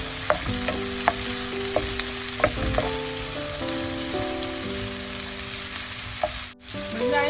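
Onions, green chillies and curry leaves sautéing in a pan for an ivy gourd stir fry give a steady close hiss of frying, with soft intermittent clicks and taps of stirring and a brief gap near the end.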